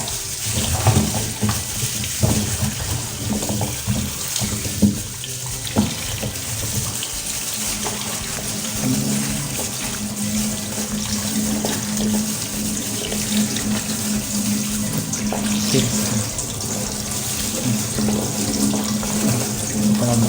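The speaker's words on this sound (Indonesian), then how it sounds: "Di air mengalir ya." Tap water runs steadily into a sink while peeled temulawak and ginger roots are rinsed under the flow. The splashing continues throughout, with occasional clunks and knocks as the roots are handled.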